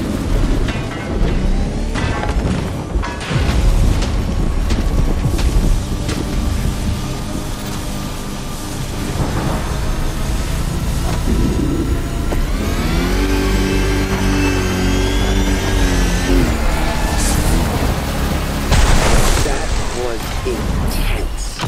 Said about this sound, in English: Just look at those 250 kilowatt engines at work.